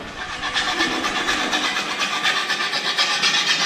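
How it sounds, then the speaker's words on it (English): A hand file scrapes the inside of a freshly welded car exhaust pipe to clean the gasket seal. Harsh metal strokes repeat in a quick, steady rhythm, loud and close. "he just files out the inside to make sure we get a nice clean seal for the gasket in there"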